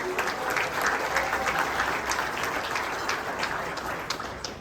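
A banquet audience applauds volleyball All-American honorable mention honorees, a full, even wash of many hands clapping continuously throughout, with no pause or voice standing out.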